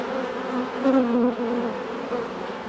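Honeybees feeding inside an open beehive full of honey give a steady, close, continuous drone that swells briefly in the middle, with no talking.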